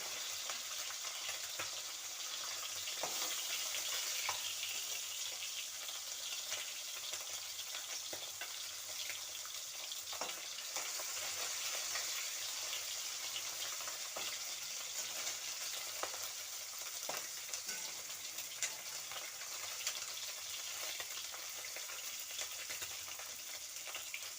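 Mourala fish cakes frying in oil in a pan, a continuous soft hiss and sizzle with occasional light crackles, steady and fairly quiet for the whole stretch, with no talking.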